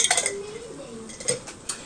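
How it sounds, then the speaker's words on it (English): Metal utensil stirring chicken spaghetti pasta with Rotel in a pot, repeated clinks and scrapes against the pot sides, close and fairly loud, with no talking. "You're going to stir it up and combine it really well."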